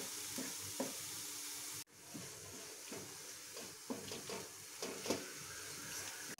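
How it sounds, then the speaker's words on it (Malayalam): Onions and green chillies sauté in a pan for masala idli, a continuous soft sizzle broken by repeated stirring scrapes at an irregular rhythm, fairly quiet and without speech. "സവാള നന്നായിട്ട് വഴറ്റിയെടുക്കണം."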